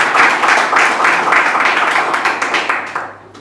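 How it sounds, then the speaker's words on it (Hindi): A church congregation claps loudly and in a steady rhythm during a Hindi-language service. The clapping thins out and fades near the end. "तो ताली बजाओ, जोर से बजाओ।"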